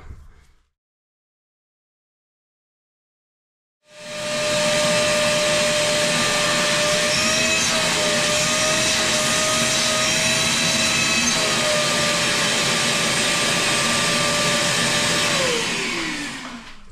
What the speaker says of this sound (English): I can vacuum it from the other end.